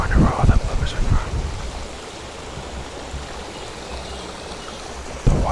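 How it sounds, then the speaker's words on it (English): Steady rushing flow of creek water, close and continuous, with brief bursts of voice or handling noise at the start and end. "The water sounds here are like immaculate though"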